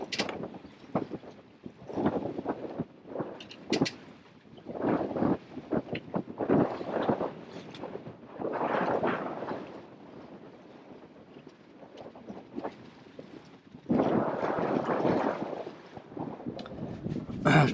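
Wind gusting across a sailboat riding at an exposed anchorage, buffeting the microphone in uneven surges that swell and drop, with a loud burst near the end and faint hull and rigging noise underneath.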